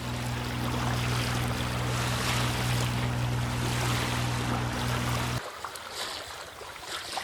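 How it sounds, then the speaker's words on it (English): A sailboat's motor drones steadily at sea off the coast, a loud, constant hum with wind and water rushing past, then the engine cuts out abruptly, leaving only wind and wave noise. "I'm motoring along, basically still out to sea a bit, heading towards Bundaburg"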